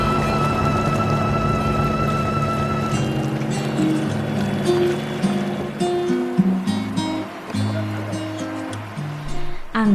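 A passenger ferry on the Alappuzha backwaters drones with a steady engine hum and water wash, while people talk over it in the background.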